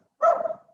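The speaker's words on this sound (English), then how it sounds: "sorry for the dogs barking in the background." A single dog gives one short, clear bark, fairly close and loud against silence.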